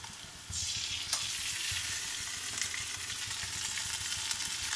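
Okra sizzling in hot oil with ginger garlic paste, stirred in a pan for a bendakaya fry; a steady close frying crackle with occasional spoon scrapes, no voices.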